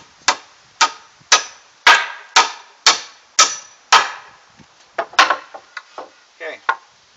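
A hammer drives nails into wall studs while a shed wall is framed for a generator enclosure: a regular series of sharp, loud, ringing blows close by, followed by several quicker, lighter taps.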